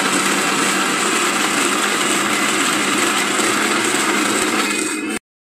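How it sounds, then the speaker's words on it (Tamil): A mixer grinder runs continuously, grinding a paste with added oil, loud and close with a steady whirring roar before cutting off abruptly. "அகைன் இதை வந்து கிரைண்ட் பண்ணிடலாம்."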